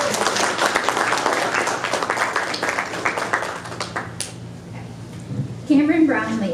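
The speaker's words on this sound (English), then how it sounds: "So let's give them a round of applause." An audience at an FFA induction ceremony claps in a burst of applause that gradually thins out, followed by a voice beginning to speak.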